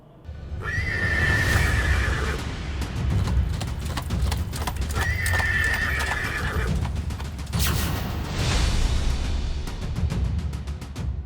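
A horse neighs twice with long shrill whinnies while hooves clip-clop steadily underneath, all fairly loud over a busy outdoor rumble, in Mokama, Bihar, during a political tour on horseback.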